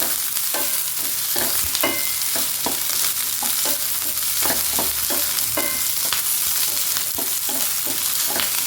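Onions fry and sizzle steadily in a pan for a coconut-style chutney, with a continuous close crackle broken by regular scraping strokes of a stirring spoon and no voices.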